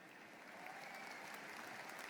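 An audience at a college convocation claps steadily, a dense, continuous wash of applause heard from a moderate distance.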